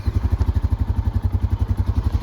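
A 2023 Honda Rancher ES ATV engine runs at a fast, steady idle with a loud, close, rhythmic chugging thump that repeats throughout, without any voices.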